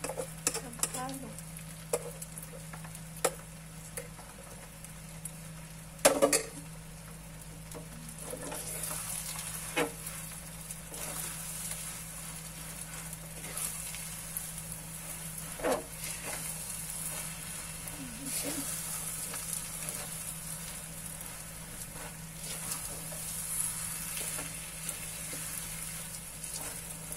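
Biko sticky rice cake being stirred in a pan, with faint scraping and soft sticky stirring sounds at a steady pace, a few sharper knocks against the pan, and low background hum throughout.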